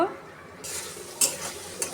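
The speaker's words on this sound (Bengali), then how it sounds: "এই যে দেখো বন্ধুরা কত সুন্দর করে আমি কষিয়ে ভাজা ভাজা করে নিলাম" Loitta dried fish being stirred and fried in a pan, a soft sizzle under a couple of sharp scraping clinks of a utensil against the pan.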